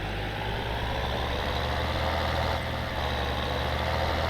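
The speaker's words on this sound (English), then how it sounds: "I'm going to get out of the tractor" A tractor engine idles in Farming Simulator 13, a steady low diesel drone with a constant throbbing rumble, close and unchanging.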